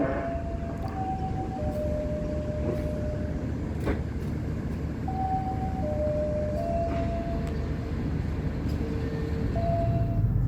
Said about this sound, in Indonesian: Sesaat lagi kereta api Pogo akan melanjutkan perjalanan dari stasiun Kutowinangun